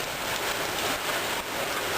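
Steady rain falls and patters on surfaces, a dense, even hiss lasting two seconds with no voices.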